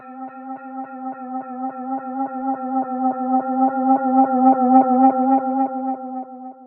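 A self-oscillating tape delay in the free Fauxillon plugin from Free Library builds a sustained, rapidly repeating tonal echo that pulses rhythmically, swelling louder toward the end and then easing off, alone without talk.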